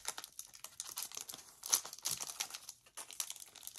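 Cello pack of Panini Chronicles La Liga soccer cards being ripped open, close and quiet crinkling, crumpling and tearing of plastic wrap in quick irregular bursts.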